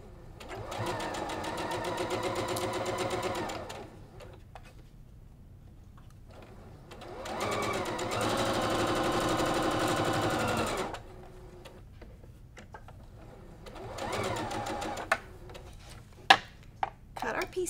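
A sewing machine stitches pieces of a Sawtooth Star quilt block in three loud, steady bursts of rapid mechanical whirring, with quiet pauses and small clicks between runs as the fabric is repositioned.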